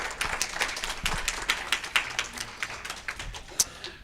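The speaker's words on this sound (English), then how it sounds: "Applause for Alexandra and her team." An audience at a medical symposium applauds a speaker and her team, a scattered patter of claps that keeps going throughout with a few sharper individual claps.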